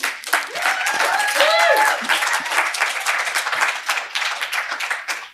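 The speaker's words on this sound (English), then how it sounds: "You don't have to applaud that, honestly." Applause from a poetry reading audience, a crowd of hands clapping steadily and fairly close, with a brief voice rising over it early on before the clapping continues alone and tapers at the end.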